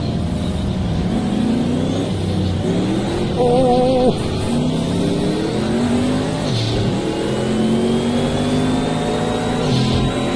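A car engine in the racing game Project CARS 2 revs hard and loud, its pitch climbing and dropping through several gear changes over ten seconds, with a brief exclamation from a voice.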